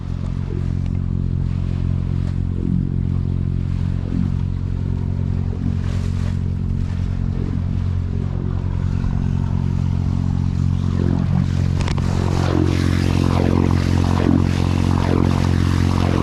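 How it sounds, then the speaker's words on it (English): Steady, loud diesel engine drone from a sailboat motoring on a calm sea with no wind, a continuous low throbbing hum that holds evenly throughout, with some brighter rushing water or wind noise building toward the end. "We are motoring. Gave up. Wind's just completely dead. You know, and so through the power of, you know, modern technology and the diesel engine"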